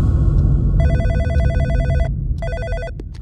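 A telephone rings in an office with a bright electronic trill in two bursts, the first longer and the second short, loud and close over a low background hum.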